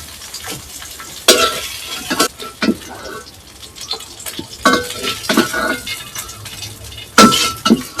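Fried fish lifted out of a hot pan into a bowl, for a fish and tomato dish: sharp metallic scrapes and clinks come in bursts over a low background sizzle.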